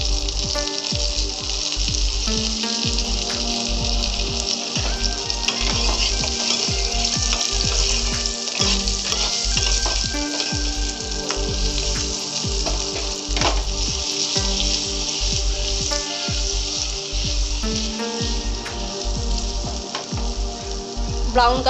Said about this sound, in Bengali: ব্রাউন কালার করে আলুগুলোকে ভাজবো।